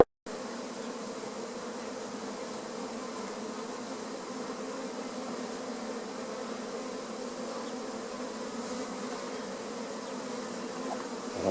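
A honeybee swarm hums steadily around a hive, a dense, even drone of many bees that holds at moderate loudness throughout with no voices.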